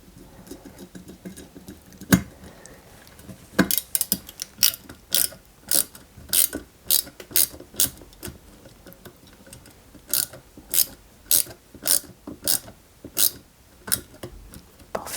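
Tightening a small screw on a 1/6 scale Citroën DS 19 model produces a run of crisp ratcheting clicks, close and dry, in irregular bursts that grow steadier toward the end.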